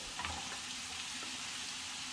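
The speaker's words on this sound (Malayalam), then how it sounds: "ഇതുപോലെ നീളത്തിൽ മുറിച്ചത്, ഇതൊന്ന് വഴറ്റണം" Long-sliced vegetables sautéing in a pan for a Kerala drumstick and pumpkin curry, a soft continuous sizzle with faint stirring scrapes, low and steady throughout.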